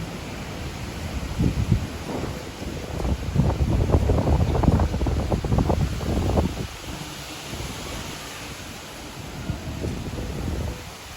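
Strong gusting typhoon wind roaring and buffeting the microphone, swelling to a peak then easing into a steady rush, with rustling in the background.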